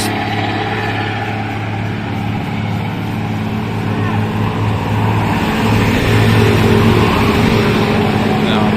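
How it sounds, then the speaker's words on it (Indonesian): A truck labours up a steep, winding uphill mountain road, its engine droning steadily and loudly throughout, with a faint rise in intensity toward the end. "seperti truk ini ya. Berjuang untuk naik ke atas."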